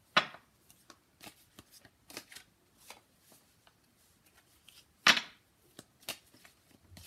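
Cards are shuffled and drawn for a reading, giving soft, close riffles and flicks in scattered bursts, including a sharper snap near the five-second mark, with no voices.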